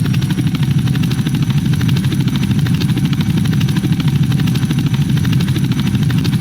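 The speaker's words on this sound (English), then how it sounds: "Beautiful helicopter." A Roblox Bell 407GXi helicopter engine runs continuously with a loud, low rhythmic rotor thump and steady droning hum, close and unbroken.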